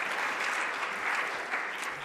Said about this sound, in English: Perhaps a small round of applause